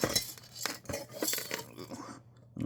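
Handling an old metal miner's pan from a metal-detecting find in New Mexico: a few clanking, clattering metal knocks and scrapes up close, spaced irregularly over a couple of seconds.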